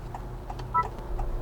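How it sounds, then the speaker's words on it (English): Turn signal on a 2022 Honda Civic Touring ticks inside the cabin, four evenly spaced clicks over a steady low engine hum, with one short beep tone in the middle. "I put my turn signal so you can hear that beep"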